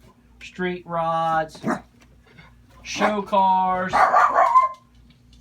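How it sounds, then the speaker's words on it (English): A pet dog barks and yips loudly in several close bursts indoors, overlapping someone talking about model car kits. "Sorry about our dog."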